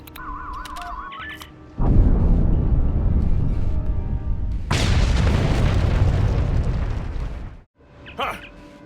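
A massive explosion erupts in Star Trek Online with a loud sustained roaring blast and rumble lasting several seconds, a second surge following before it cuts off, with game tones and a brief voice around it.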